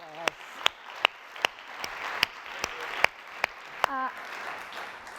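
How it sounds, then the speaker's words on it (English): Scattered individual claps from an audience at an evening community awards program, sharp isolated hits spaced about every half second rather than full applause, with a brief murmur of voices near the end. "Let's go ahead and give it another round of applause."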